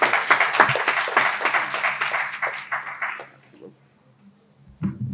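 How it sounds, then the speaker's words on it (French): An audience at a university welcome day for new baccalaureate graduates applauds a speaker, Ali Thiam, in a dense burst of clapping that lasts about three seconds and then tapers off, followed by a brief sound near the end. "Je voudrais alors, mesdames et messieurs, qu'on applaudisse Ali Thiam"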